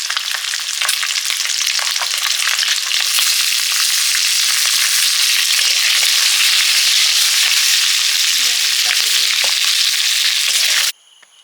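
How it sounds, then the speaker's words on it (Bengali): Capsicum fries lightly in a pan with a loud, continuous close sizzle and crackle, steady throughout before cutting off abruptly at the end. "একটা ক্যাপসিকামও ছিল এটা ডিমের রান্নাতে দেবো ওটাও ভেজে নেব হালকা দিয়ে দিচ্ছি"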